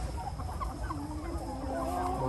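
Binh Dinh chickens, black-legged hens and large roosters, cluck softly in a flock over a steady farmyard background hum.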